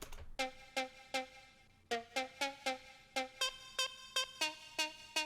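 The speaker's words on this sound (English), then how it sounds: "I transposed the top and I changed the attack and decay so it would be more like a bell" Bright, saturated bell-like synth notes from a sampler in Ableton Live 9 strike in a steady rhythmic pattern, each with a sharp attack and quick ringing decay, upfront and clear with no voices.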